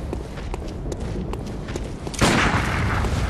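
Gunshots in the video game Bloodborne: a run of sharp, light cracks, then a louder, fuller blast that leaves a lingering roar.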